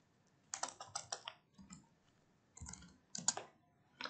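Keys clatter on a computer keyboard in a few quick bursts of clicks, quiet and close, with short pauses between the runs and no voices.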